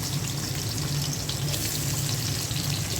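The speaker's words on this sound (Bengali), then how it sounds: "পেঁয়াজটা দিয়ে দিচ্ছি" Onions going into a pan of hot oil while beef is cooked for bhuna alongside khichuri, giving a steady, dense sizzle and crackle that holds at an even level throughout with no talking.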